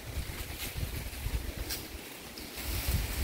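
Steady outdoor wind rushing and buffeting the microphone at a rural farm, with low rumbling gusts that swell louder toward the end; no voices.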